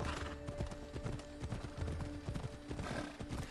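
Steady clip-clop of horse hooves with a horse whinnying, set against a dense, continuous soundscape from the video game Assassin's Creed Odyssey.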